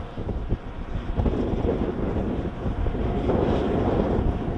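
Wind gusts around a school's wind turbine, rushing and buffeting the microphone in a loud, continuous swell with no voices.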